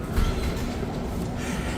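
A metro train rumbles past in a Washington, D.C. station, a steady dense low roar with clattering wheel noise and no talk.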